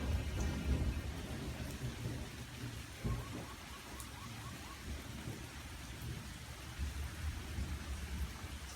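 Steady rain pours over an outdoor sculpture garden while thunder rumbles low and continuous, with a sharper crack partway through and scattered drips on nearby surfaces.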